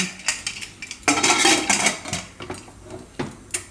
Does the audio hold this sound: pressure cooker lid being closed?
yes